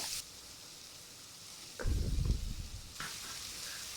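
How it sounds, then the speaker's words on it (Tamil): Chopped tomatoes sauté in a pan for beef curry, giving a low crackling sizzle that swells for about a second midway. The sound is faint and steady around that burst, with no talk. "நம்ம கட் பண்ணி வச்சுருக்க தக்காளி அதையும் சேர்த்து ஒரு 2 மினிட்ஸ் வந்து நல்லா வதக்கிக்கோங்க"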